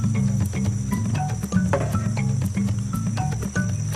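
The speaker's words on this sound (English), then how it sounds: "First, they need to catch the bait, jungle crickets." Dense insect chirping fills the Amazon jungle scene, a steady chorus of jungle crickets with scattered sharper clicks and chirps layered over a continuous low hum.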